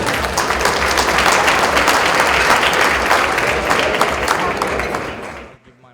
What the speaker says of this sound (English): with your applause, let's welcome Mr.